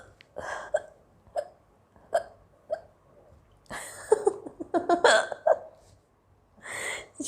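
A woman hiccups repeatedly while eating, with sharp separate hiccups spaced out at first, then a quick cluster of them, close and fairly loud with breathing between.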